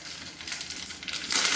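Mustard seeds hit hot oil over a low flame for a khandvi tempering, giving a brief burst of sharp crackling pops that grows denser and louder toward the end.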